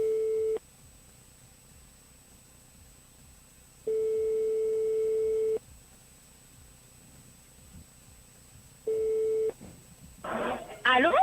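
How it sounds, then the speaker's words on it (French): A telephone call rings through with a repeated tone, three steady beeps separated by long silences, followed by a brief burst of noise at the end as the line picks up. "J'espère que ça sonne et qu'il y a un réseau de son côté"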